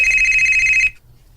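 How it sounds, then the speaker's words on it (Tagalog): A cellphone rings loudly and close by with a steady, high electronic tone that cuts off abruptly, leaving a quiet room. "Ang cellphone pala ang nag-ring"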